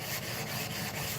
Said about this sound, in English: we're planing this fretboard